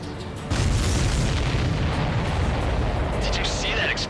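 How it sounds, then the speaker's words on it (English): A supply ship explodes in the Ace Combat 7 flight game, a loud deep boom with a low rumbling roar that swells and holds for several seconds over jet engine noise. "Did you see that explosion?"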